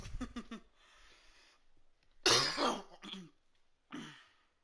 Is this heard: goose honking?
no